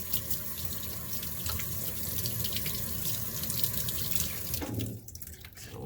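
Tap water runs steadily into a sink while a cleaning cloth is rinsed, a close continuous hiss that drops away near the end, leaving a quieter splashing remainder.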